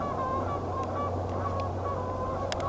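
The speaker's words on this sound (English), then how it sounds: "the 3 geese who dropped in and seemed to disturb them a little" Three geese honk in short, sharp calls at a spring, a couple of faint honks early then a louder cluster near the end, over a steady low rumble of background noise.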